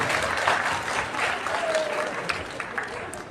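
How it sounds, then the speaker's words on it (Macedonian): Graduates are applauded by a crowd at an evening award ceremony for the ten best graduates, held in the centre of Delčevo. Dense, sustained clapping fills the whole stretch at an even, fairly loud level. "Аплауз за нашите најубави матуранти."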